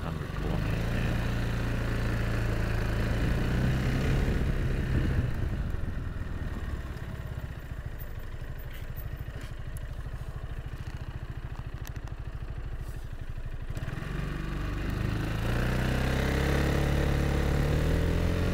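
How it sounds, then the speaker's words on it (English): A Scarabeo scooter engine revs and climbs in pitch as it accelerates on the road toward 100 km/h, loud and close, easing into a steady drone midway before rising again near the end. "you'll be able to hear how the engine performs and how long it sort of takes to get to 100"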